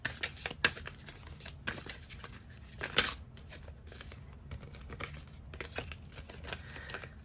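Oracle cards are shuffled and drawn by hand, producing close, crisp riffling bursts and sharp card snaps at irregular intervals over a quiet room.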